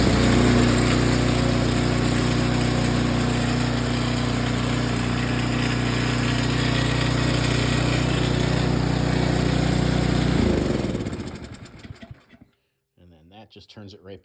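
A John Deere 827E snowblower engine runs loud and steady at close range after a pull-start, then cuts off near the end and winds down, leaving quiet.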